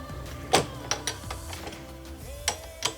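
Allen key working on parts of a quarter midget race car during a rebuild: faint, close metallic clicks and scrapes in short irregular bursts, a few sharper ticks standing out against a quiet background.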